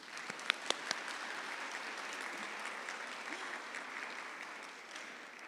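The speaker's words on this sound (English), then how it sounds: "Another round of applause for them." Audience applause at a recognition celebration, a steady wash of clapping from a sizable crowd with a few sharp louder claps near the start, fading slightly toward the end.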